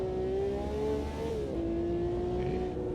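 A V12 Ferrari Formula One car howls through the Nordschleife circuit in a VR racing game, its high engine note rising, dipping briefly as it shifts, then holding a steady scream, moderately loud with no talk.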